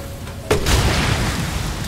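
A single bomb blast in the PS5 game Resident Evil Village erupts suddenly and rolls into a loud, rumbling decay that fills the rest of the moment, with no talking over it.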